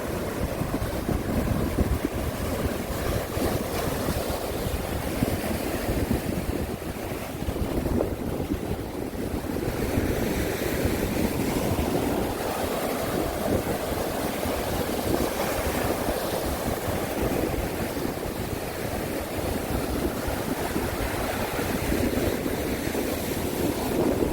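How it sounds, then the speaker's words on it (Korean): Large ocean waves surge against the shore near Yeonggeumjeong pavilion beside Dongmyeong Harbor, a continuous loud roar of churning surf mixed with heavy wind buffeting the microphone. "저 이쪽으로는 예, 파도가 막힘이 없어가지고 더 크게 솟구치고 있습니다"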